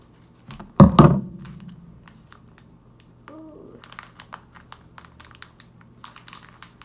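Crinkling plastic packaging, a burst of rustling and snipping up close, followed by scattered light clicks and taps.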